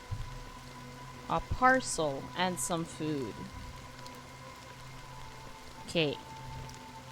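Steady rain hisses softly in a Honkai: Star Rail scene set in Penacony, a constant patter under a person's intermittent speech.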